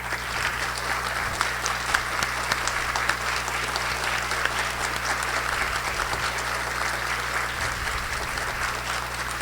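Steady applause from an auditorium audience at the opening ceremony of the 14th Flipoços literary festival in Poços de Caldas, Brazil, honoring the organizing team; dense, continuous clapping throughout with no talk.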